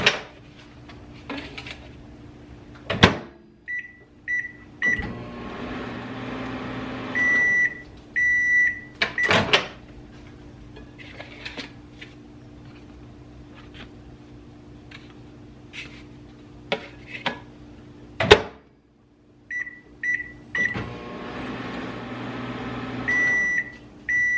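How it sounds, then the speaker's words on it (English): Frozen breakfast food heats in a running microwave oven, a low steady hum broken by the door clunking, the item being flipped and repeated beeps from the keypad and timer, close and clear with no talk. "I just stick this in the microwave, I do 20 seconds, I flip it, and then I do 20 more seconds"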